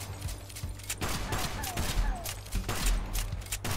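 Rapid shots from a gun in the video game Kill the Crows, a quick series of sharp cracks over a low steady background hum with some talk underneath.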